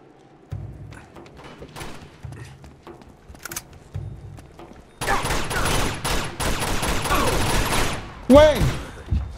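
Machine gun fire in the video game Uncharted 2, starting with quieter scattered shots and thuds, then a loud, dense sustained burst of rapid fire in the second half, with voices talking over parts of it.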